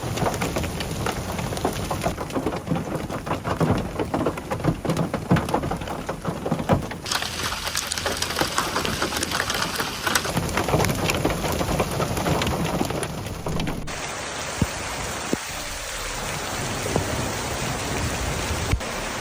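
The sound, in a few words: heavy rain and hail storm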